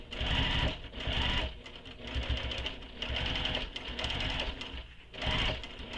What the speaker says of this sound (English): then I'm going to top stitch again across the bottom